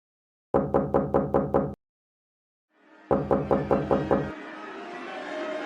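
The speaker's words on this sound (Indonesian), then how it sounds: "suara ketukan keras di arah pintunya" Loud knocking on a door in two bursts of six rapid, evenly spaced raps, separated by a short silence, with a low eerie rumbling drone rising after the second burst.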